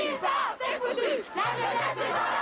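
Dense crowd of protesters at a street demonstration in Bordeaux, a steady loud roar of many voices rising and falling in waves, with shouting and chanting close by.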